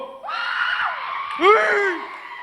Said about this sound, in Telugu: గట్టిగానే అరుస్తున్నారు, పర్వాలేదు